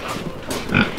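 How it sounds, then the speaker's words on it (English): A pig grunts up close, a short loud series of low snorting oinks in quick succession. "Hey, Mr. Pig."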